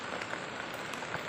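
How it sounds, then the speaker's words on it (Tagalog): Heavier rain falls around a creek, making a faint, steady hiss with no break. "So medyo lumakas na yung ulan."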